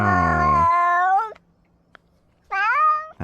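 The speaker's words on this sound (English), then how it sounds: "That's a lot of meowing." A cat lets out two long, loud meows close by, separated by a quiet pause with only a faint click in between.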